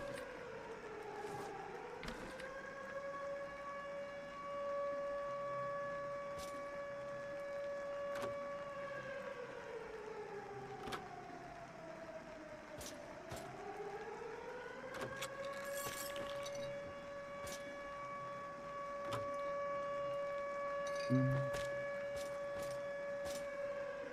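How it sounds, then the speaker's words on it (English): A game siren in Insane Bunker Pro wails in slow rising and falling sweeps, with a steady tone between sweeps, sounding faint and distant, with scattered clicks throughout. "they might want to change the sound effect for the siren"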